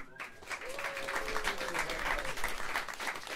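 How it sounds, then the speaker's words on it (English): Jazz club audience at Smalls in New York applauds the drummer, a dense steady wash of clapping with scattered voices and faint whoops, moderately loud throughout. "Have a round of applause for him."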